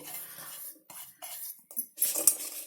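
Powdered jaggery tipped into a cooking vessel, giving a few bursts of gritty pouring and light clinking against the pot, close and fairly quiet, with short pauses between pours.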